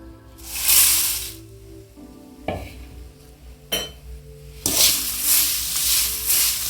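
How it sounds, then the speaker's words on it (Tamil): Curry leaves hit hot oil in bursts of loud spitting crackle, with quieter scraping stirs in between and a strong sizzle returning toward the end. "இன்னும் ஒரு முட்டை எண்ணெய் ஊற்றி கருவேப்பிலை வறுத்துக்கலாம் கொஞ்சமாக"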